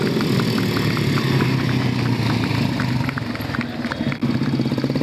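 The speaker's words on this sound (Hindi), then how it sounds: "बुलेट पर होकर गाड़ी चला रहे बुलेट के ऊपर।" A Royal Enfield Bullet motorcycle engine runs steadily and loudly during a stunt ride at an outdoor Republic Day celebration on a railway ground in Solapur, with a continuous rumbling throb that dips slightly near the end.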